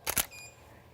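A camera shutter clicks twice in quick succession with a strobe flash firing during a studio shoot at slow shutter speed, followed by a faint high whine from the flash recharging, close and crisp.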